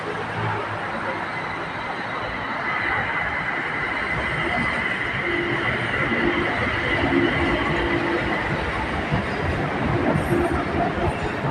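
A BTS Skytrain on the Silom line pulls into platform 3 at Saphan Taksin station in Bangkok, giving a steady, loud rumbling roar of wheels and motors that grows slightly toward the end, with faint station ambience beneath.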